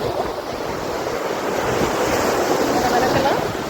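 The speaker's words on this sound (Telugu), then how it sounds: "సముద్రపు అలలు చూసారు కదా" Sea waves wash onto the beach at Mahabalipuram, with a temple nearby. The surf makes a steady, loud rush that fills the clip, and wind buffets the microphone throughout.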